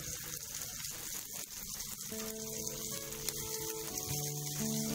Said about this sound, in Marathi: त्यानंतर दोन्ही बाजूंनी आपण परतून घेणार आहोत